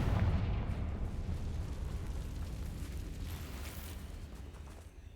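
The Confringo explosion spell in the Hogwarts Legacy video game bursts with a deep, rumbling blast that slowly fades out over several seconds, with no voices heard.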